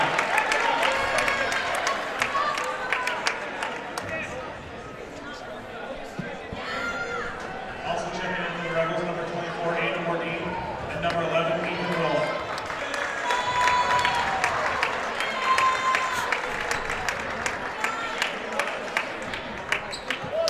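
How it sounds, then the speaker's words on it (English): A hometown crowd applauds at a high school basketball game between DGF and Barnesville, a broad wash of clapping that swells and settles over about twenty seconds beneath a play-by-play commentator talking throughout. "who gets a nice round of applause from the hometown crowd"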